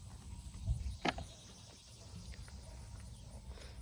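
Mares moving about and stamping, giving one heavy thud followed by a sharp hoof knock against a low, steady outdoor background. No voices.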